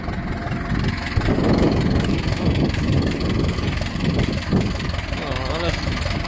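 A steady, loud Ursus C-360 tractor engine idles close by with a low rumbling drone, and a few indistinct voices are mixed in beneath it.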